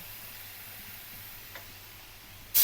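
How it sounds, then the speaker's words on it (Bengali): Fish fries in a pan with a faint, steady sizzle and a few soft ticks close by, and a brief louder clatter comes right at the end. "এই যে মাছ ভাজা হচ্ছে"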